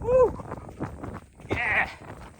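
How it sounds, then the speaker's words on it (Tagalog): Sheep bleat on a scenic New Zealand trail, with a few wavering calls nearby, one clear bleat at the start and another near the end, while a voice speaks faintly in between. "Mga tupa."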